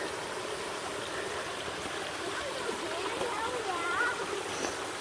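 Hikers crossing a stream on a long-distance trail, with the steady rush and trickle of flowing water close by and faint splashes toward the end.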